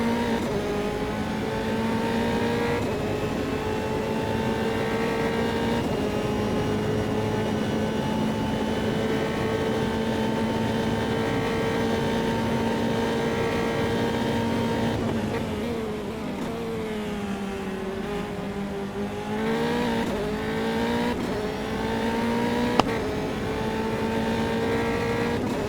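A Formula 3 race car engine at the Floripa circuit in Automobilista wails at high pitch throughout, climbing through gear changes and dropping under braking, with engine notes rising and falling steadily and no talk.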